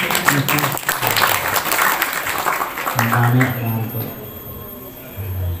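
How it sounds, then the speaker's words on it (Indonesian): An audience at an Indonesian talk show and halal bi halal gathering claps in a dense burst of applause early on, mixed with overlapping talk and a voice that carries on after the clapping fades. "Tepuk tangan dulu buat Pak"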